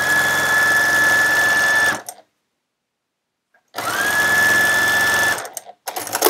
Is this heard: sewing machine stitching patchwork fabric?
yes